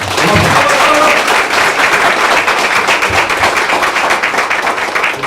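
A crowd at a political press conference in Incheon applauds loudly and steadily, many hands clapping close by, with a few thumps and voices briefly breaking through at the start.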